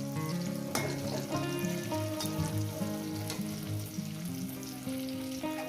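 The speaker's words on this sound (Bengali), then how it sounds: "সব টমেটোটাকে ভেজে নেব নরম করে কাঁচা লঙ্কা রসুন টমেটো সব কিছু নরম হয়ে যাবে" Tomatoes, green chillies and garlic frying together in a pan make a steady, close sizzle with soft bubbling and stirring, and no one talks over it.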